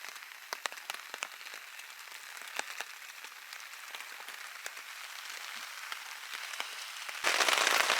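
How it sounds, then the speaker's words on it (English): Steady rain patters on a surface while boat camping in the Noosa Everglades, Australia, with scattered sharper drops tapping throughout and a sudden heavier rush of rain near the end. "Looks like the rain has not passed."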